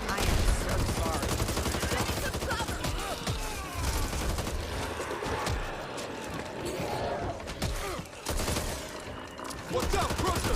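Dense bursts of gunfire in the video game Back 4 Blood, rapid automatic shots and blasts layered over each other close up, with players talking over the shooting.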